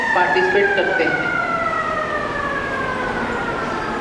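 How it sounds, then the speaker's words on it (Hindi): A school siren marking the start of the next period wails in long, slowly falling tones that sound loud at first, then settle into a steady drone over broad background noise. "ये सायरन बजा,"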